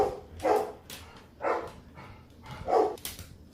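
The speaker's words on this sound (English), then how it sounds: "I had to quiet the dogs" Three loud dog barks sound, spaced roughly a second apart, nearby indoors, with no talking.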